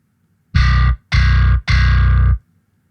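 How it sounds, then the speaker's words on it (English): Three gritty, overdriven bass guitar notes through a DjinnBass 2 grit setting ring out in quick succession, each held briefly, with a crunchy, saturated edge. "And grit."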